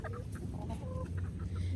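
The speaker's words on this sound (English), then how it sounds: "oh, there's one of the roosters" A rooster on a backyard flock clucks steadily and close up, its short throaty calls repeating over a busy low background, with no clear crow.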